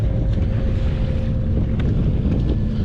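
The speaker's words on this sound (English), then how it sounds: "there's a little bit of wind" Steady wind buffets the microphone on a bass fishing boat over clear summer water. The low rumbling gusts are continuous and fairly loud, and no voice is heard.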